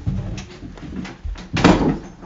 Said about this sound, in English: Close my door and the bathroom door